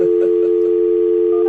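A telephone call being placed: a steady, loud dial tone hums on with faint dialing blips at the start, close and uninterrupted for about a second and a half.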